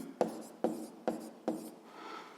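Pen strokes scratch on paper as an answer to a physics problem is written down, four short sharp strokes in a quick even rhythm and then a softer rubbing scrawl, close and alone.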